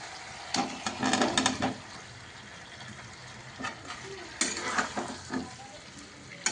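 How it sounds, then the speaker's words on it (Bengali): Potatoes stirred into fried spices in a pan for a vegetarian potato curry: scraping, sizzling stirring strokes come in close bursts over a steady low frying hiss. "এবার আলুটা দিয়ে একটু নাড়াচাড়া করে দিই"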